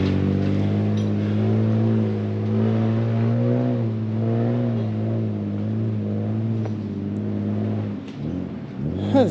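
A 4WD engine labours and revs up a very steep high-country track, a loud sustained drone rising and falling in pitch, then a brief throttle blip near the end.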